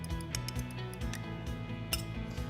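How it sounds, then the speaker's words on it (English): Rapid clinking of a utensil against a bowl as egg and cream are quickly whisked together for an egg wash, a fast, light, irregular tapping, close and fairly quiet. "I'm gonna take my egg, I'm gonna put a little bit of cream inside, and I'm gonna just do it a quick little mix."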